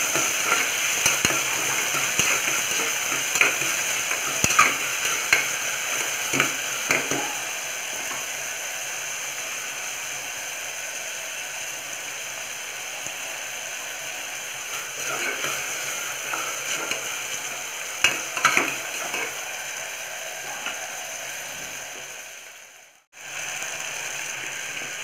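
Onions and tomatoes sauté in a pan for potato kurma, with a long, steady, close sizzle broken by scraping and stirring clicks. The sound briefly cuts out near the end.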